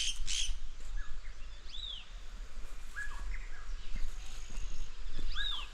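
Parrots feeding on fruit in trees near a hillside cottage in Mukteshwar give short, arching chirps and whistles in scattered bursts. Faint insect buzzing runs beneath them, and there is no talk.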